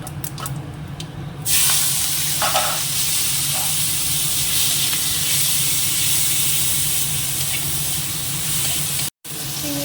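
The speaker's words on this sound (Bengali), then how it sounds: "তেলের মধ্যে দিয়ে দিচ্ছি হচ্ছে শুকনো লঙ্কা জিরে একটুখানি আর দিয়ে দেবো যে চিংড়ি মাছটা" Dried red chillies, cumin and prawns are dropped into hot oil and burst into a loud, steady, hissing sizzle that continues close up with hardly a break.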